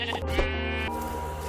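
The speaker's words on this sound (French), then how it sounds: "il y a deux moutons marrons qui ont spawn en même temps" Minecraft sheep let out bleats, one drawn-out wavering baa followed by a second, up close and clear over a soft game background with no talking.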